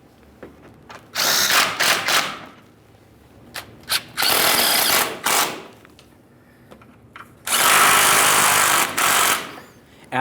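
Power tool, likely an impact driver or drill, running down the mounting bolts on a 1998-2011 Ford Ranger 2.3L under the vehicle: three loud, sustained whirring bursts with brief ticks and clicks between them, close and without talk.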